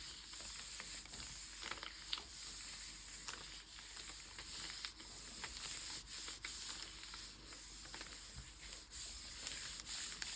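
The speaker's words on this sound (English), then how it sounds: "Again, smoothing it out with my hands." Hands rub and smooth paper down onto a gel printing plate over seaweed, producing a continuous close, soft rustling and brushing with small irregular taps, and no talking.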